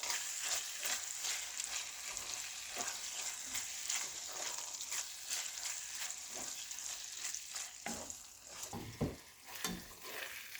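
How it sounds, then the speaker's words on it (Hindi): Kohati keema frying in a pan as chopped ginger is stirred in: a continuous loud sizzle, broken by scraping stirs of the spoon, with no talk. "अब बिल्कुल लास्ट पे हल्का सा अदरक कटा हुआ मैं इसमें डालूंगी और बस इस तरह से हल्का सा इसको हिलाकर"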